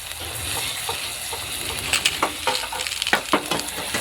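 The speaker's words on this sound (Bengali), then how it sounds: "রসুন আর পেঁয়াজটাকে ভালোভাবে ভেজে নেব।" Crushed garlic and onion fry in hot oil with a loud, close sizzle, while a spatula stirs and scrapes against the pan in quick irregular strokes. No one speaks.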